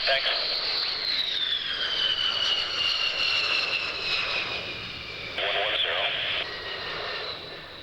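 A propeller aircraft drones overhead at a D-Day 50th anniversary event in the mid-1990s, its engine tone rising then gradually sliding lower as it passes, loud and sustained, with a brief jump in noise partway through.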